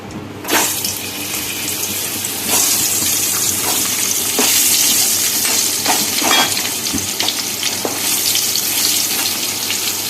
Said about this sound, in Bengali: এবার এই তেলের মধ্যেই প্রথমে ভেজে নেব কাঁচকলাগুলোকে তারপরে ভাজবো আলু